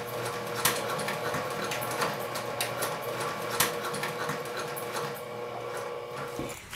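Sewing machine topstitching a bag with a slightly long stitch length. A steady, fast mechanical whir with rapid ticking runs loud and close, then winds down near the end.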